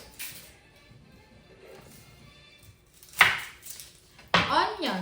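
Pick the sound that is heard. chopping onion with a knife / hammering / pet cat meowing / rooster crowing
chopping onion with a knife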